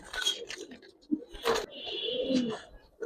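Giribaz and coloured pigeons coo on a rooftop in soft, throaty bursts, a few close calls rising over faint background noise and occasional light rustling.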